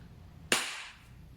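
A WE Glock 18 Force T4 airsoft gas blowback pistol fires a single sharp, close shot with a quick decaying hiss, alone with no talk.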